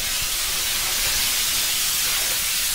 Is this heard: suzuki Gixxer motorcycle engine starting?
no